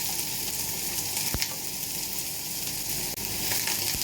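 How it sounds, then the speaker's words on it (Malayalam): Onion, curry leaves and green chilli frying in coconut oil for tomato chutney give a loud, continuous close sizzle, with a couple of sharp clinks from a stirring utensil striking the pan. "ലേശം വെളിച്ചെണ്ണ വെച്ച് നമ്മളതിലേക്ക് നമ്മൾ അരിഞ്ഞു വെച്ചിട്ടുള്ള സവാളയും വേപ്പിലയും പച്ചമുളകും അതിലേക്ക് ഇടുന്നു"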